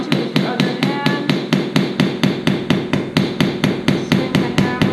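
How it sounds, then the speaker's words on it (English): Rapid, evenly spaced hammer blows tap a small sanded metal jewellery piece held by hand, about three strikes per second with bright metallic ringing, close and loud. "Swing the hammer in your wrist."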